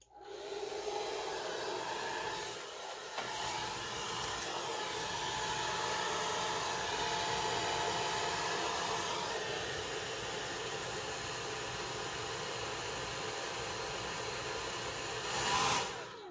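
A hair dryer drying paint on an HO scale Preiser model figure, blowing a steady loud whooshing hiss nearby for the whole stretch, then briefly swelling near the end.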